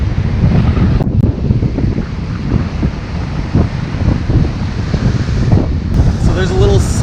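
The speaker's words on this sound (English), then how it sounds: "the waves just crash up behind you" Ocean waves surge and crash against the rocks at Pedra Furada in Jericoacoara, a steady, loud roar of surf mixed with heavy wind buffeting the microphone throughout.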